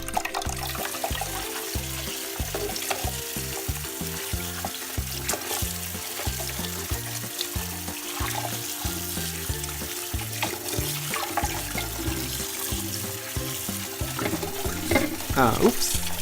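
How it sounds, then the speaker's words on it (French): Bok choy leaves and stems are rinsed under a running kitchen tap, a steady splashing stream with irregular patters and sloshes as the greens are handled, close and continuous. "on va le rincer et nettoyer les feuilles et les tiges"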